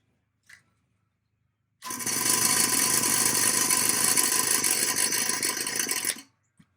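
A Melasty milking machine pump motor hums and whirs steadily for about four seconds, spinning freely, starting and stopping abruptly, with a faint click before it and near-silence around it.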